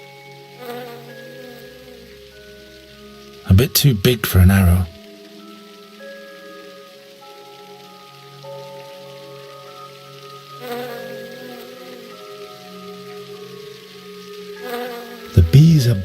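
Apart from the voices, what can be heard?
bees buzzing in the video game The Dark Eye: Chains of Satinav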